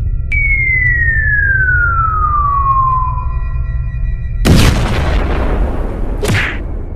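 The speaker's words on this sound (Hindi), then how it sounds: "सोन सूतली बम को जला देता है" A sutli bomb firecracker follows a long falling whistle tone with a sharp, loud bang, then a second crack close behind, over a low rumbling background.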